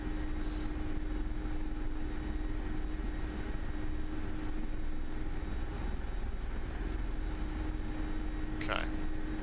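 A Mi-24 Hind helicopter in the DCS flight game holds a steady, droning engine and rotor roar at high power for lift-off, with one brief higher sweep near the end.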